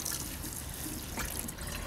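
Water is poured onto soil around a freshly planted garden hibiscus cutting, a close, continuous splashing and trickling that fills the whole short moment without pause.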